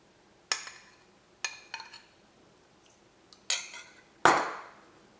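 A metal spoon clinks against a pan four or five times in separate sharp taps while yogurt is added to a Kerala-style mutton curry, quiet and close with no talking.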